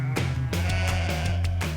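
A flock of sheep waiting to be hand-sheared bleats in a steady chorus of overlapping calls, fairly close and loud, with no talk.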